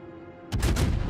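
A sudden loud salvo from the cruiser Des Moines in World of Warships: a sharp blast followed by rapid overlapping booms of the main guns, close and forceful after a quiet moment.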